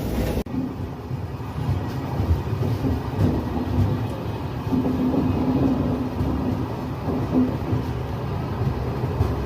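Steady low rumble of the Mahal Express passenger train (22624) rolling along near Tiruchirappalli Junction, continuous and moderately loud, with a faint hum running through it and no voices.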